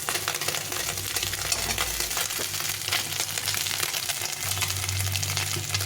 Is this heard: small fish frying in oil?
yes